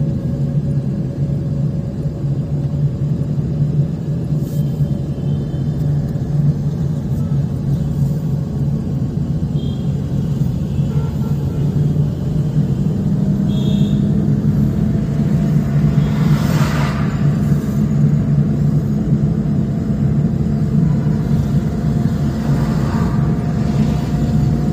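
A car engine drones steadily while driving on a city road during a driving lesson, a continuous low rumble that swells gently as the car picks up speed through a gear change, with faint traffic noise around it.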